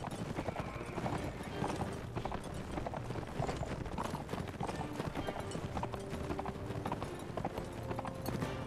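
Rhythmic hoofbeats of a galloping horse in the video game Mount & Blade: Warband drum steadily and quietly throughout, with faint talk mixed in underneath.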